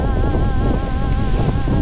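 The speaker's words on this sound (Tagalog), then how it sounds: "Grabe, lakas ng hangin dito." Strong coastal wind buffets the microphone at the Pacific View Deck in Dingalan, Aurora. It makes a loud, continuous low roar with a faint steady hum underneath and no talking.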